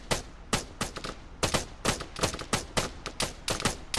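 A video game shootout with gunfire: sharp shots in a steady, uneven rhythm of about two or three per second, fairly close and moderately loud, with no talking.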